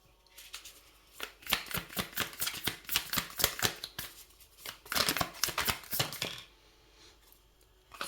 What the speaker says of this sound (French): Je vais remonter les cartes.